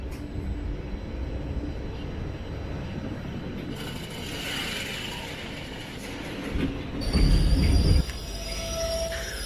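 The 16362 Velankanni–Ernakulam express runs on the rails near Ernakulam, a steady rumble of coaches with rattling mechanisms and a louder burst of wheel noise near the end.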